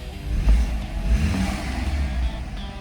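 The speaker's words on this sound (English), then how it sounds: "Give it a little bit of revs." A BMW 328i F30-generation engine revs up nearby after a thermostat replacement, a rough low rumble swelling and easing over a couple of seconds.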